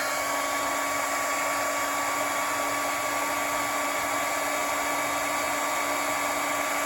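A heat embossing tool blows hot air over a stamped Christmas card with a steady, loud, unbroken whirring hiss, like a hair dryer, running alone throughout.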